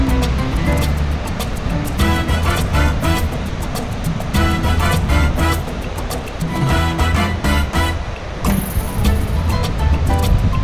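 A golf cart rolls along a beach with a steady motor hum and wind, ocean surf washing underneath, and a continuous loud, rumbling drive throughout.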